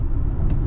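An Audi e-tron electric car accelerates at full power, heard from inside as a brief, loud, steady low rumble of road and motor noise with no talking.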